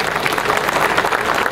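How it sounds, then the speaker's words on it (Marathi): Crowd at a political rally in Akluj claps for a former panchayat samiti chairperson, a dense continuous burst of applause from many hands at close range. "त्यांना एकदा जोरदार टाळ्या वाजवा"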